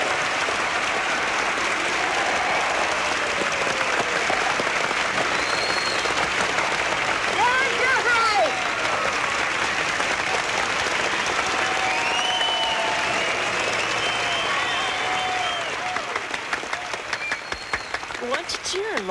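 A large crowd at a 1977 event claps and cheers in a sustained roar, with scattered whistles and shouts rising above the dense clapping before it thins slightly at the end, voices mixed throughout.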